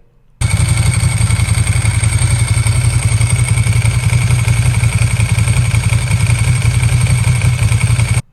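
A vintage Italian Ducati motorcycle engine runs steadily at idle, loud and close, with a fast even thumping rumble and mechanical clatter throughout, and no voices.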